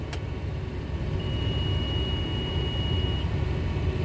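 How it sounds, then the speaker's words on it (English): A steady electronic alarm tone sounds for about two seconds inside the cab of a John Deere 7930 tractor, held over the constant low rumble of the idling engine. "Got some kind of alarm"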